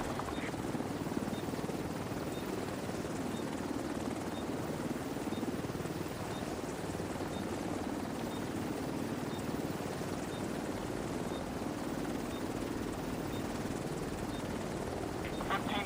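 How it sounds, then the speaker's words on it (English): An extraction helicopter hovers in The Division 2, its rotor drone a loud, steady wash that holds unbroken throughout, with a faint voice underneath. "Chopper will leave in 30 seconds."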